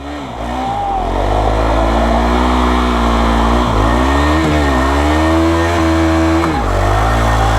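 A KTM Duke 390 motorcycle does a burnout, its engine revving loud and close with rising and falling pitch swells, sustained throughout.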